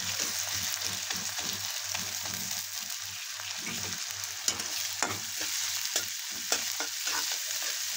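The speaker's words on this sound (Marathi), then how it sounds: "तेल सुटूस तोपर्यंत परतून घ्यायचं." A paste of ginger, garlic, coconut and coriander frying with browned onion in oil gives a steady, loud, close sizzle, broken by occasional clinks and scrapes of a spoon stirring, with no one talking.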